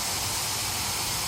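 A steam cleaner releases a steady, loud hiss of steam onto a floor during floor cleaning, continuous broadband noise without pauses, with no one talking.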